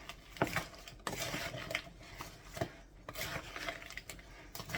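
Utensil scraping and clinking in a bowl as breakfast foil pack ingredients are stirred together, in quiet repeated strokes with occasional sharper knocks.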